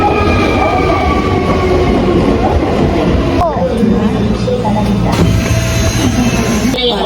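A train moves through a station in Japan with a loud, continuous rumble, rail noise and a few sharp clanks and squeals. Ambient chatter from a waiting passenger carries beneath it.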